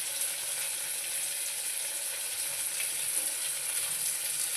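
Sliced onions fry in hot oil in a pan, with ginger and garlic, for a taro leaf curry, giving a steady, close, hissing sizzle throughout, with no talk.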